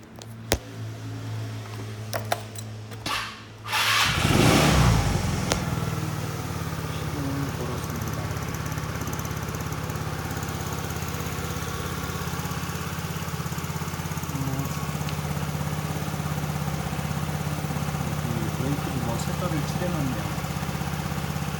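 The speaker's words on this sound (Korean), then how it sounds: "시동을 한번 걸어볼게요" A scooter engine cranks and catches after a few seconds of handling noise, then settles into a steady low idle that runs loud and close for the rest of the clip, with a person speaking briefly over it.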